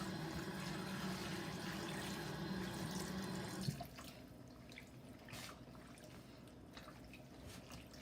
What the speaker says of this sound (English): all I have to do is just rinse this off